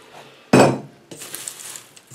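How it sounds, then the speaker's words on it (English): Roasted coconut and seeds are tipped into a muesli bowl in one loud clattering pour, followed by a softer spread of small clinks and rustles as the bits settle. "here's the coconut and the seeds, which I roasted already. So I just throw that in there."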